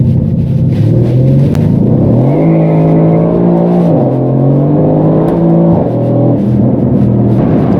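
A Brabus 600-tuned Mercedes C63 AMG with a torquey V8 accelerates hard on the autobahn, its loud, deep engine note rising through the gears with brief dips at each shift, heard from inside the car.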